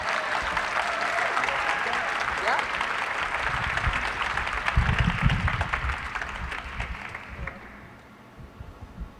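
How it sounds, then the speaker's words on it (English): Audience applause for youth speakers at a summer kickoff event, a steady broadband clapping that holds for about eight seconds, swells midway and then fades toward the end. "Let's give another round of applause for Athena and Jordan."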